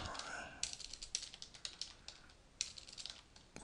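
Fingers typing a password on a computer keyboard, a quick run of light clicking keystrokes with a few sharper taps, close and quiet in a still room.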